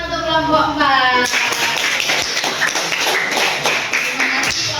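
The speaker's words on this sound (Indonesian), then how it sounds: "Tepuk tangan untuk kelompok 4." A classroom of students clapping for a group after its presentation, a dense burst of many hands that starts after a spoken word and keeps going steadily.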